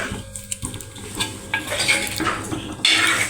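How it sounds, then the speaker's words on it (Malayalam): A utensil stirs a papad mixture with curry leaves in a metal pan, making close clinks and scrapes with a few sharp taps. A light sizzle runs under the stirring, and a louder scrape comes at the end. "ഇത് ഇളക്കാം ഇനി കുറച്ച് കറിവേപ്പിലയും കൂടെ അതിനകത്തിടാം"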